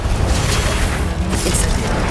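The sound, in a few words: Glacius ice spell cast in video game Hogwarts Legacy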